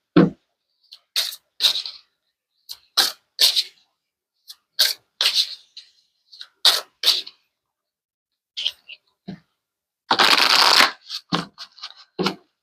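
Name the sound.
shuffling and pulling tarot cards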